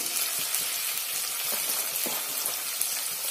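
Thinly sliced onions frying in a pan for a spicy chicken fry, giving a steady, close sizzle with faint crackles and light stirring clicks, no voices.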